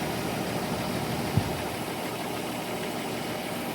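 A car engine idling as it warms up, a steady, even mechanical hum with a single brief click partway through, close by with no talking.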